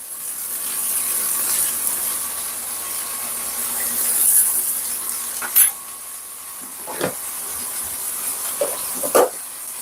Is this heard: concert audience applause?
no